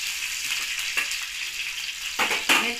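Green chillies frying in hot oil and being stirred, a bright hissing sizzle with a few scrapes and a louder burst of crackling toward the end, up close with no one speaking.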